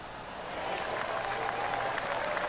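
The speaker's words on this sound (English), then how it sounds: "Oh, golf clap." A burst of polite golf clapping from a small crowd in the video game PGA Tour 2K23 at TPC Scottsdale, a steady patter lasting a couple of seconds with no talking.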